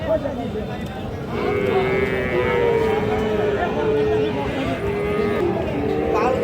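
Friesian and crossbred bull calves at a busy village cattle market, lowing in long, drawn-out moos nearby, over constant crowd hubbub and people talking.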